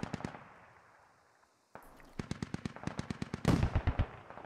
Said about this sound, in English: And the Dishka opening up again.